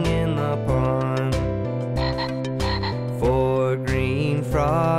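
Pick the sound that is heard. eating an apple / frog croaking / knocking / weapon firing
frog croaking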